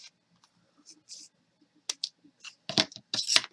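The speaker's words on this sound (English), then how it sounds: "Let me clean that up with the scissors." Scissors snip while trimming a handmade pocket-sized planner card holder, giving a few short, close crisp cuts near the end after quieter paper handling.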